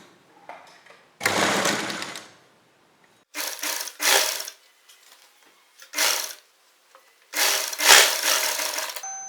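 A sewing machine stitches a strip onto a kurti neckline in several loud, close bursts of rapid mechanical whirring, separated by short pauses.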